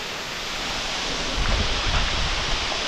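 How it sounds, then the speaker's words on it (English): A giant waterfall on a remote wilderness river, a steady, loud, broadband roar with deep rumbling low end that swells slightly midway, heard close and without voices. "with this giant waterfall behind us"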